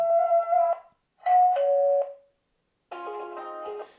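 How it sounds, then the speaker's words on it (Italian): Ringtone chimes from an EZVIZ CP7 smart video intercom: three separate bursts of clean electronic doorbell tones, each a short melodic run of pitched notes with silent gaps between, loud and close with no talk. "Qui possiamo anche andare a decidere la suoneria."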